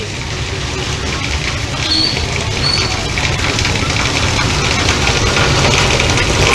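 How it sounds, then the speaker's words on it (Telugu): Heavy evening rain pours down in Hyderabad, a dense, steady roar of falling water that stays loud and unbroken from start to finish with a faint low rumble beneath. "సో హైదరాబాద్లో వర్షం కురుస్తోంది."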